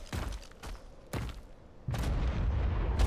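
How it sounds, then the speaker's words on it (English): Big explosions in the video game ARK: Primal Chaos, several booming blasts a second or so apart, each a sharp crack with a deep rumbling tail, followed by a sustained low roar. "Ooh, big explosions."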